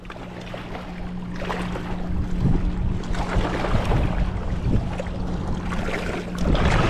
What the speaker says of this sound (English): That wind gusted and got a hold of it.